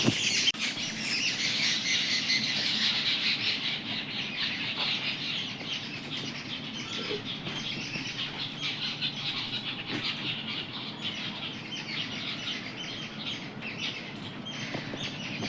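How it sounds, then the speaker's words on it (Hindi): Small birds chirp and squawk steadily from nearby branches over a constant outdoor hiss, calls overlapping throughout. "इस पेड़ पे चिड़िया बैठी है और बड़े ची ची कर रही है"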